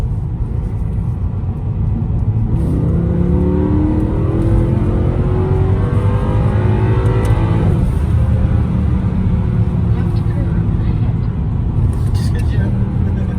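A brand-new Mercedes C63 AMG engine revs hard under acceleration, a loud, deep rumble rising steadily in pitch and then easing off, with people talking over it.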